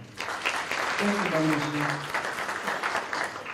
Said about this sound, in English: Can you give her a round of applause for that?